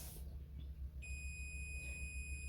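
A multimeter on a continuity test sounds one steady, high electronic tone. It starts partway through, holds without a break to the end, and is faint under a low background hum, with no talking.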